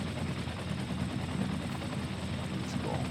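A steady, dense rotor-and-engine roar from firefighting helicopters in a city-building game, continuous and fairly loud throughout with no pauses.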